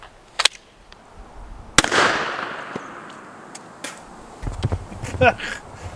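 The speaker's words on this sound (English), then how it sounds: "Next up, we've got a 22 Magnum, and it's going to be shot out of my Kel-Tec PMR 30." Shots from a Kel-Tec PMR 30 pistol firing .22 Magnum rounds at a can of soda: a couple of sharp, moderately loud cracks with a brief ringing tail, then scattered rustles and faint movement.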